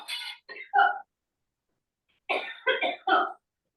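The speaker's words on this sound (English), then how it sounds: "someone was coughing" Someone coughs during a video call, two bursts of three harsh coughs each separated by a silent pause, fairly loud and close with no other sound around them.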